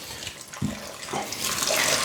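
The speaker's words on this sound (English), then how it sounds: "And in goes water over the plums." Freshly boiled water from a kettle is poured over plums in a container, a rushing, splashing stream that starts softly and grows fuller and steadier over two seconds, heard close with no talk.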